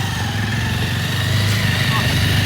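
Several motorbikes ride along a hill road, their engines making a steady mid-pitched drone that rises slightly as they approach, with a voice talking over it.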